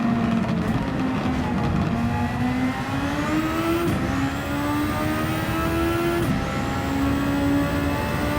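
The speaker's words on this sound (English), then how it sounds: "Just hear the engine dying. It literally sounds like it wants to tear itself apart." A Formula 1 car engine screams at high revs, straining, its pitch climbing and dropping with gear shifts, loud and continuous without pause.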